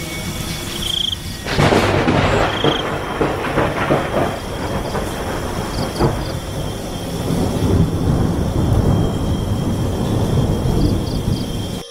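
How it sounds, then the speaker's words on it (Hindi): Heavy midnight rain pours steadily while loud thunder cracks and rumbles close by, the downpour continuing as a dense hiss between rolling booms. "आधी रात को बहुत तेज बारिश होती है।"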